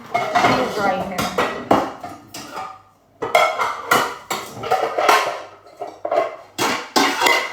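A large cooking pot handled in a home kitchen gives repeated metallic clanks and clatters in uneven bursts, close and fairly loud, with a short lull midway.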